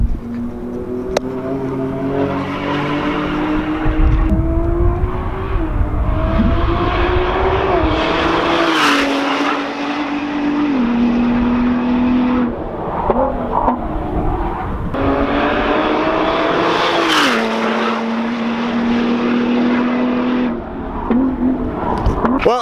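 A Ford GT with a twin-turbo EcoBoost V6 roars close past, its loud engine note climbing and dropping through gear shifts, then a second full-throttle pass follows with a sharp rise and fall.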